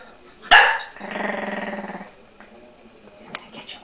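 A pug barks once sharply, then growls in a low, rattling stretch at a paper pug cutout indoors. Quieter shuffling follows, with no talking.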